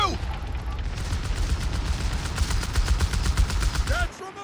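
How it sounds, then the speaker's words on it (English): Sustained machine gun fire in a World War II strategy video game, rapid continuous bursts loud and close for about four seconds with faint game voices underneath. "I'm just gonna bully this machine gun."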